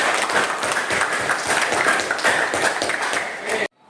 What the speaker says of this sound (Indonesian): tepuk tangan dong untuk Sabrina